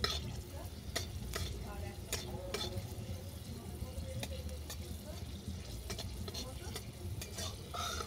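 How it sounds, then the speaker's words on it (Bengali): Garlic fries in hot oil in a pan, giving a faint, continuous sizzle broken by light scraping and clicking from stirring throughout. "দেখো, রসুনটাও বাদামি করে ভাজা হয়ে গেছে।"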